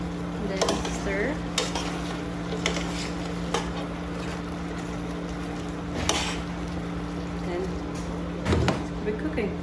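At an outdoor food festival cooking demo, adobo with hot chili peppers is stirred in a pan: a low simmering sizzle under a steady hum, broken by intermittent spoon scrapes and knocks against the pan.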